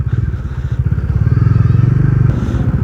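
A Kawasaki Dominar 400 motorcycle engine runs steadily up close, a low rumbling drone with a rhythmic pulse that rises slightly before easing off.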